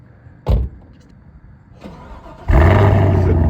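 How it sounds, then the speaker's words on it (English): A 2021 Chevrolet Camaro SS 1LE being rebuilt after a wreck: a brief click and whir come first, then the V8 cranks and catches, settling into a loud, deep, steady idle close by. "I'll have my brother start it real quick"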